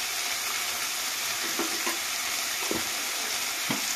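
Turkey curry fries in a pan with Kashmiri chili powder: a steady close sizzle, broken by several soft scraping stirs of the spoon, with no talking.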